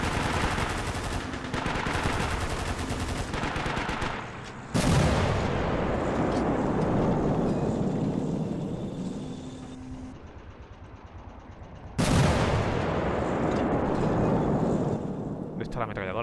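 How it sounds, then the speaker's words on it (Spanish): Bursts of heavy machine gun fire and explosions boom loudly in the Men of War war game, with long rumbling blasts at the start and again midway as someone talks over them. "La ametralladora pesada."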